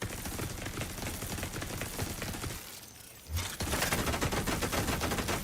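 Turret gunfire in The Division 2 plays as a dense, rapid stream of shots, pauses briefly, then returns louder and just as fast, with sharp crackling impacts.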